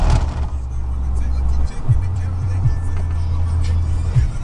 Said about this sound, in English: Let this car pass first.